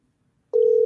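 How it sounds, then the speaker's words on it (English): A telephone tone starts abruptly halfway through as a call is placed, a steady, loud single-pitch hum after a moment of near silence. "So, folks, we calling Stuart Young, the Minister of Energy"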